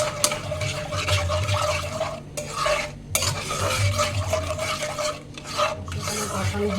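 Curry is stirred after sour yogurt goes in, a spoon scraping and rubbing around the pan in a continuous rhythmic motion over a low sizzle, with short pauses between strokes.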